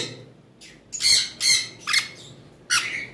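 A pet sun conure squawks in four or five sharp, loud bursts at irregular intervals, close up, with quiet gaps between calls.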